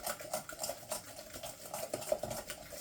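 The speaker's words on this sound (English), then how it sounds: "Just going to mix all that up real well." A big spoon mixing a brown sugar glaze in a bowl for meatballs, quick repeated scraping and clinking strokes, close and fairly quiet, with no talk.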